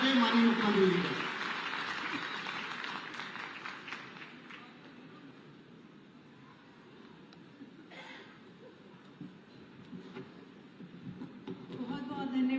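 An audience at a university convocation in Kanpur applauds to welcome the chief minister, a burst of clapping that fades to a softer patter while someone speaks over a public address system.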